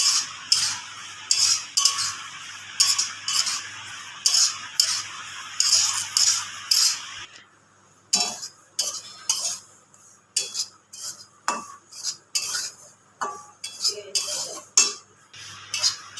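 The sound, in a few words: frying and stirring semolina in a pan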